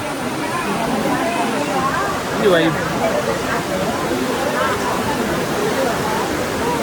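The Nandini river flows near a temple at Kateel, a steady broadband rush of running water that continues throughout, with voices talking over it.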